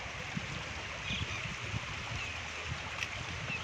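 A broad, steady rush of the rain-swollen Sutlej River flows continuously at a moderate distance, carrying heaps of grass and debris, with faint low rumbles underneath and no speech.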